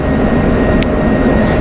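F-16 fighter jet engine in a flight simulation game, a loud, steady broadband roar with no speech.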